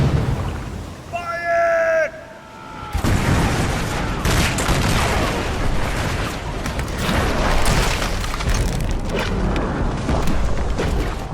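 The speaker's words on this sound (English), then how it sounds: "But a British ship comes to the aid of the Victory and fires a terrible broadside into the" Thunderous naval cannon broadsides from a Battle of Trafalgar 1805 documentary, a sudden massive roar of overlapping booms that rumbles on continuously after a brief tonal passage.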